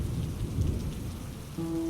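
Steady rain on the ground with a low rumble of thunder rolling underneath, a continuous stormy wash at night in a forest camp, with a low tonal drone entering near the end.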